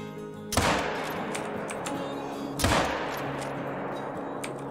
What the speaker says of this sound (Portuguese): Atirei nos dois, esse aqui atirei no meio do mato pra ver se acertava ele, não acertei.